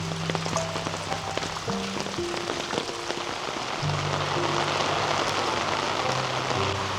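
Steady rain falls over Palekond village in Mandangad, a dense, even hiss of drops on surfaces that holds through the whole stretch, with faint tonal sounds in the background and no talking.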